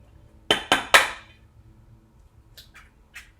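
Eggs cracked against a bowl for an omelet: three sharp close taps in quick succession, then a quiet pause and three fainter clicks, with no voices.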